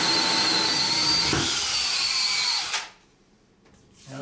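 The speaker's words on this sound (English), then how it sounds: "We'll go ahead and drill it." A power drill whines steadily at high speed for a few seconds while drilling a hole for a shower door enclosure, then cuts off abruptly, leaving near silence.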